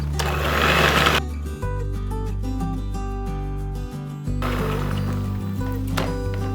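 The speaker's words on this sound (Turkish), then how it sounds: "Son olarak nişastayı ekliyorum. Ve tekrar çırpıyorum." Fig cream cheesecake filling being whisked after starch is added, a steady loud mechanical mixer whir running throughout with slight shifts in pitch, no talking over it.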